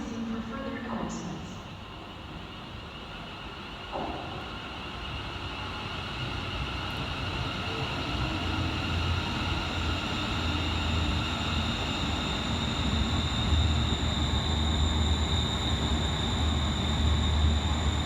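Scotrail Class 380 electric train 380-116 arriving on the far platform at Paisley Gilmour Street station, a low rumble building gradually and growing louder over the whole stretch, with a brief station sound near the start.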